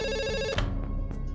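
A telephone rings after a call is placed to a hotel, one electronic ring burst, then a short pause with fainter ringing tones, close and clear.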